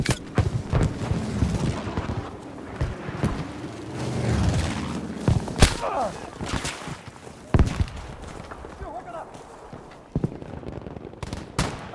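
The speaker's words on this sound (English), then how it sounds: "requesting an artillery barrage on this location." Heavy booms and gunfire from a Battlefield 5 Breakthrough battle, with an artillery barrage mixed into several loud blasts and scattered shots over a constant din of combat.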